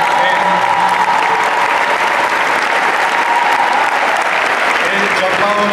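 An opera concert audience at La Divina Commedia applauds the chorus master, Emanuele Faiola. The clapping is loud, dense and sustained, filling the hall without break.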